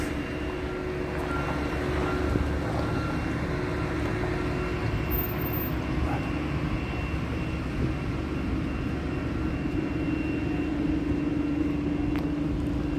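A small pumping station beside a telephone exchange runs its machinery in a steady, loud, unbroken drone with a low hum, holding constant and without pause throughout.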